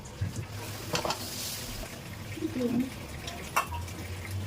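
Noodles with chicken masala and noodle spice stirred in a pan over a high flame, with a soft steady sizzle, a few scraping and clinking strokes against the pan, and someone talking over it.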